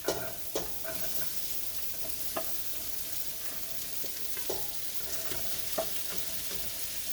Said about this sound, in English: And we're going to saute all this till it's tender.